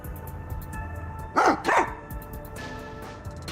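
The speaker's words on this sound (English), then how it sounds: "The dog has something in her mouth." A dog in the video game Rain Code gives two quick loud barks in succession, close and clear, over a quiet background of game ambience.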